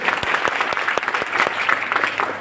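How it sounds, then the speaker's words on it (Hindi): A crowd at a program in Siwan claps loudly for a woman, crisp dense handclaps with sharp individual strikes standing out across the short burst. "एक बार बहन जी के लिए जोरदार ताली बजाओ।"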